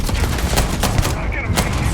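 Rapid, dense gunfire crackles through a Starfield firefight, with sharp overlapping shots bursting in quick succession over a loud, continuous din.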